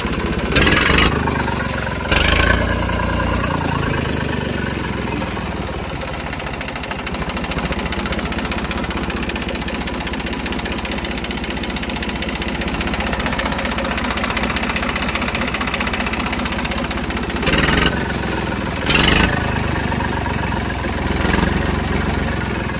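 A new diesel tractor with a factory-fitted engine idles steadily with a low, chugging rumble throughout, punctuated by a few brief louder bursts near the start and toward the end.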